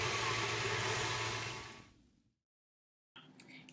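A KitchenAid stand mixer runs with a steady motor whir that winds down and stops, then a few quiet clicks follow after a short silence.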